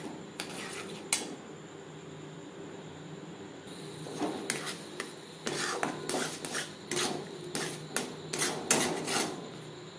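Chhena is worked into patali jaggery in a pan over a low-to-medium flame for monda sweets, a quiet stretch followed by repeated close scraping and rasping strokes of a utensil against the metal.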